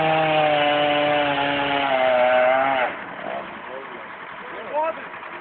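A chainsaw roars at high steady revs, then drops to a lower rumbling idle with brief rises, heard close during tree work alongside a tractor.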